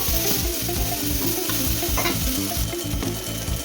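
Chopped tomatoes fry and sizzle in a hot pan while being stirred into a paste for sambar, a dense continuous crackle with rhythmic scraping strokes, close and loud, no talking.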